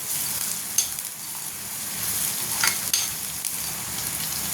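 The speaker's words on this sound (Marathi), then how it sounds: "हे बघा लाल होतोय कांदा" Onion browning in hot oil for a spicy urad, toor and chana dal: a close, continuous sizzle with a few scraping stirs and knocks against the pan, no voices.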